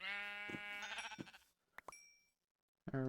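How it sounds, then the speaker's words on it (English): Sheep bleats from the Minecraft GregTech New Horizons modpack, a few wavering game bleats in quick succession at close range, followed by a short gap and another bleat starting at the end. "did I see a sheep over the other side there?"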